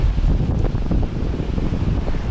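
Strong wind blows at the seafront in Alanya on a stormy January day, a loud continuous roaring rumble buffeting the microphone with no talk.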